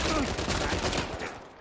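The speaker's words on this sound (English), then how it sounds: "So many bullets going through" Gunfire in the Uncharted 4 multiplayer video game: a dense, continuous burst of rapid shots and fusillade that fills the short stretch, loud and close, with a voice faintly mixed underneath.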